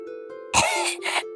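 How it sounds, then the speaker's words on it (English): Snow White coughing in a told fairy tale, two sharp, close bursts, the first harsher and longer, over a sustained low musical tone. "she began to cough"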